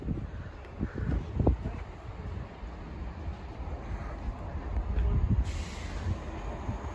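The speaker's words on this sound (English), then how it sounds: "coming in on the right-hand side is the 1326 Chiltern Railway service from London Marylebone" A Chiltern Railway service from London Marylebone pulls into Oxford station, a low, steady rumble of the train building gradually beneath wind noise, heard from the platform at moderate distance.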